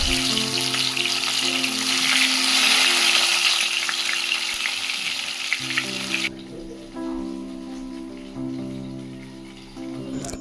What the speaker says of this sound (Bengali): এভাবেই সব মাছগুলি ভেজে নেব।